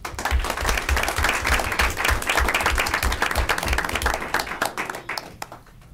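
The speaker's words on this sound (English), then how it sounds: "So again, give yourselves a round of applause and thank you." Audience at a school board of education meeting applauding, a dense, sustained round of clapping from many people that fills the room before tapering off at the end.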